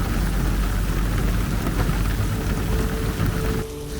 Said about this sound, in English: Well, it's raining outside.